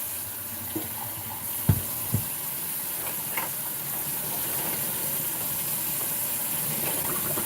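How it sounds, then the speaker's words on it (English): Water running from an indoor tap, a steady hissing rush that fills the whole stretch, with a few faint knocks and clinks early on and no voices. "I don't know how loud this water is going to be"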